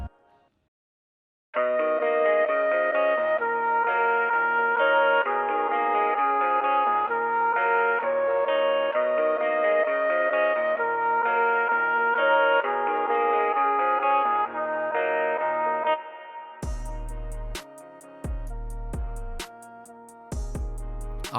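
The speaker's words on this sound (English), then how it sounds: "I put some EQ to give it that old telephonic effect" A smooth guitar RnB beat filtered through an old-telephone EQ that thins it to a narrow midrange, playing steadily for about fifteen seconds before heavy bass and percussive hits drop in near the end.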